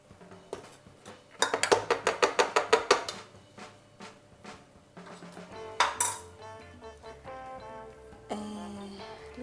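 A metal spoon clinks against a bowl while Christmas cookies are being made in a home kitchen, giving a quick rhythmic run of bright taps, then scattered clinks and scraping, with background music throughout.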